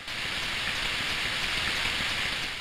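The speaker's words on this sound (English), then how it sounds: "And also it's raining." Steady rain falls in the Eternal Eyes video game, a continuous even hiss of drops with no talk over it.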